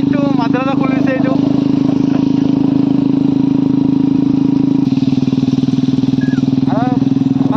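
Riding a rough village road, a new motorcycle's engine drones loudly and evenly at close range, with short bursts of speech at the start and again toward the end.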